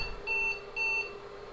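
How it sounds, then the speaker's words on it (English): An IBM 5150 computer gives two short electronic beeps in quick succession, clear and fairly quiet over a faint background hum. "There's him beeping, greeting us again."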